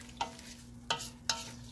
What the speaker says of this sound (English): And you're going to stir this all together.